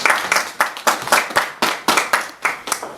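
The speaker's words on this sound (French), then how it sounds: "On peut applaudir." Wedding guests clap in a steady, rhythmic beat of about ten sharp, evenly spaced claps, close and fairly loud, with no talking over them.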